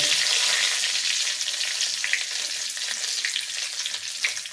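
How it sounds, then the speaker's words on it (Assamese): A bay leaf frying in hot oil in a wok sizzles loudly and steadily up close, a continuous hissing crackle with small pops and no talk. "এতিয়া তেল গৰম হৈছে তেজপাতটো ঢালিছে"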